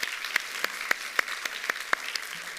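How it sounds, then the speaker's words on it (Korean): A church congregation claps for the choir during a Sunday worship service: sparse, separate claps arrive about every half second, moderately close, with no talking. "우리 감사의 박수 한 번 더 찬양"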